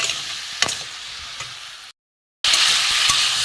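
Spice masala is stir-fried in a pan with a splash of water, giving a bright continuous sizzle with a few scraping strokes, broken by a short total silence before the sizzling returns louder, with no speech.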